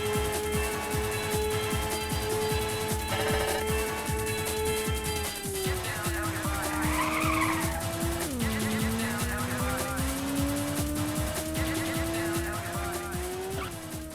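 Ridge Racer (1995) race cars howl with a steady high engine drone, gear shifts sliding the pitch up and down, and bursts of tire squeal from skidding through corners, with game music underneath throughout.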